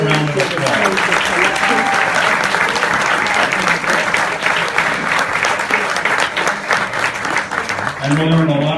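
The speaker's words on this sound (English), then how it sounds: "Let's give them all a round of applause." Audience applause at a racial justice awards ceremony, a steady loud wash of clapping filling the room throughout, with a voice briefly audible over it near the end.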